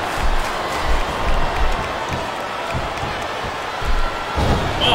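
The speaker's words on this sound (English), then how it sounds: "Crowd firmly behind John Cena." A wrestling arena crowd cheering in SVR 2009, a dense, continuous roar with rhythmic thumps of ring action, loud and enveloping throughout.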